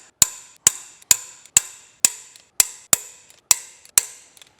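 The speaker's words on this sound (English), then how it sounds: "there we have the head bolts torqued" A torque wrench tightens the cylinder head bolts on a junkyard Ford 289 V8 that sat for over 45 years, producing about nine sharp, evenly spaced metallic clicks, close and loud against quiet.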